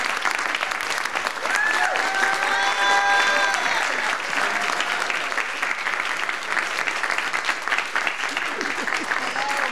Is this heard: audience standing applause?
yes